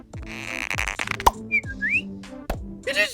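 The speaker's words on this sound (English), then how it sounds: "He turned around and realized it was Maggie who was whistling." A high, sliding cartoonish whistle from baby Maggie in The Simpsons rises and falls in short melodic bursts, mixed with sound effects and background music.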